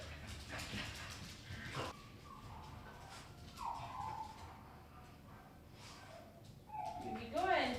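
A small friendly dog at an animal shelter gives high, whining whimpers and a few short yips, fairly faint and close, mixed with rustling and handling noises.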